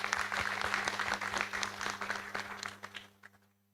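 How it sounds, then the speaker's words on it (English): Audience applause at an evening memorial law lecture, a dense sustained round of clapping from a large hall that thins out and fades to near silence by the end. "I ask that we also give the sponsors a round of applause."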